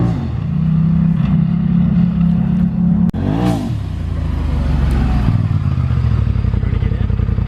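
Polaris RZR side-by-side engine loud and close throughout, a steady low drone with a brief revving swell and clatter as it churns through deep mud.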